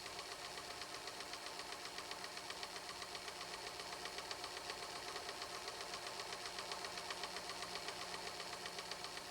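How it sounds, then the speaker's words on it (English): A Kenmore 16633 serger stitches fabric and lace while trimming raw edges, producing a fast, steady mechanical chatter with an even rhythmic pulse, faint and continuous. "Lower the presser foot and sew, trimming away the raw edges."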